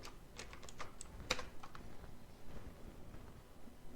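Quiet taps on a computer keyboard during data work, a short run of light irregular keystrokes with one sharper click, fading into faint room hiss.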